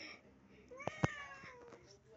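A cat gives a couple of short, close meows in a quiet room, with a soft thump and a human voice nearby.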